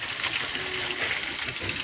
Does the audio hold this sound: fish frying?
yes